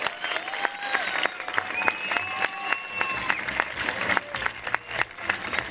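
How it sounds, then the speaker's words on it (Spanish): Audience applause welcoming a comedian on stage at a Spanish stand-up comedy show, steady dense clapping with a few whistles and cheers rising through it, loud and close throughout. "un fuerte aplauso para recibir a David Guapo"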